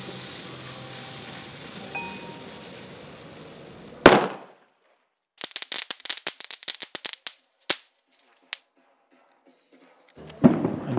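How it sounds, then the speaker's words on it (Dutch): Small firecrackers going off outdoors during New Year's fireworks in Helmond: one loud bang, then a fast irregular string of sharp cracks and a few scattered pops, ending in another close burst over faint background noise. "Klein knallen."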